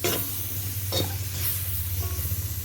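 Beef bone curry masala with chopped tomatoes being stirred in a pan, a soft steady sizzle with scraping strokes of the spoon close by, no voices.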